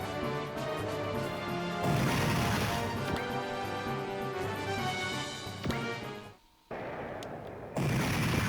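Gunfire and heavy impacts in the Super Robot Wars Z2 video game, a dense, loud run of blasts and crashes with a short drop to near silence before the barrage resumes.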